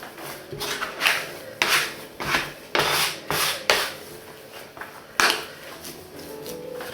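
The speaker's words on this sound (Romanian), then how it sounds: "Ca la orice aluat cu drojdie, trebuie frământat 10 minute" Yeast dough kneaded and slapped by hand on a work surface, giving a close series of soft rubbing pushes and dull thumps in an irregular rhythm, with no talking.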